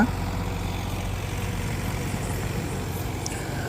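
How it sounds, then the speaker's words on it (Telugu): A Sonalika RX 42 four-wheel-drive tractor, 42 horsepower, runs steadily nearby with a continuous low diesel rumble at constant loudness, during a JCB loading test. "ఇప్పుడు నెక్స్ట్ వచ్చే బండి వచ్చేసి మన సొనాలిక ఆర్ఎక్స్ ఫార్టీ టూ ఇది ఫార్టీ టూ హెచ్పి బండి కానీ ఫోర్ వీల్ డ్రైవ్ అనమాట"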